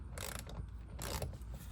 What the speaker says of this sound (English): You just got to get back here, use a T15. Just gonna loosen these